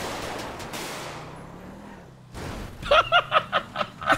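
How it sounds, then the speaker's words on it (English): Gunfire from a fleeing suspect in a police car-chase video game: after a lull, a run of sharp, evenly spaced shots rings out near and loud, about six in quick rhythm over the final second and a half. "He's trying to shoot at me."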